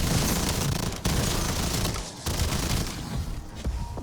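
Rapid weapon fire against zombies in Black Ops 7 Zombies, a loud continuous barrage of shots with brief pauses between bursts and no talking.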